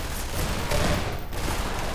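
Rapid gunfire in Half-Life 2, a dense crackling fusillade of close, loud shots blending into a continuous burst over about two seconds, with no talking.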